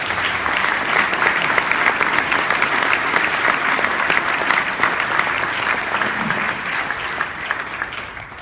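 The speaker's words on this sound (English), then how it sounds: "if we could give a round of applause for everyone who works at prep" Sustained audience applause at a father-son speech event, a dense, even wash of clapping that holds steady for about eight seconds before easing slightly at the end.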